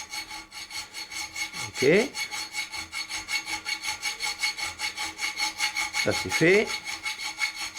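A triangular file cuts into steel in slow, rhythmic back-and-forth rasping strokes, close and steady, with a brief voice speaking in the middle.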